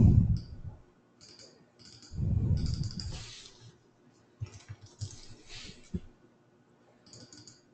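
Intermittent clicking keystrokes on a computer keyboard come in short irregular bursts, mixed with a few low muffled thumps from handling a close microphone.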